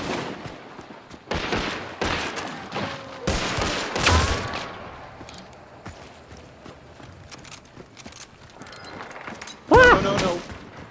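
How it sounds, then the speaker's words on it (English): Shotgun blasts in the online shooter Hunt: Showdown, several loud sharp reports spread across the clip with footsteps and game ambience between, and a voice speaking over parts of it. "Shotgun."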